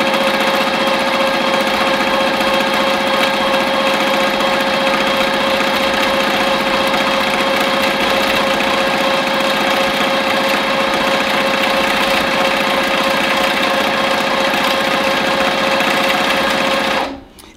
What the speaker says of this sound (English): Now I'm going to stitch back out.